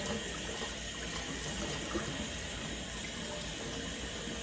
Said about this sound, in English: We're just gonna rinse her hair out now.